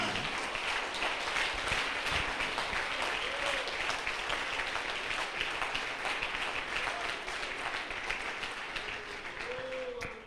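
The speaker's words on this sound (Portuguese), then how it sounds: "Aplausos." A church congregation in Recife breaks into sustained applause during a sermon, dense clapping from a large crowd that holds steady across the whole stretch and fades slightly toward the end.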